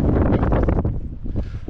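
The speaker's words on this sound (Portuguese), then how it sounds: "Olha a ventania." Strong wind gusts along a dirt road on Argentina's Ruta 40 buffet the microphone, making a loud, rough, continuous roar that rises and falls. No voices are heard.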